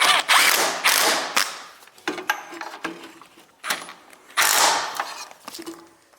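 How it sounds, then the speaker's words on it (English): Impact gun cinches bolts on a Kubota, two long loud rattling bursts separated by shorter clicks and rattles, close by and otherwise quiet. "let me get my gun. My impact gun. And we'll cinch these up."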